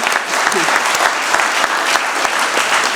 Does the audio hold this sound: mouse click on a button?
no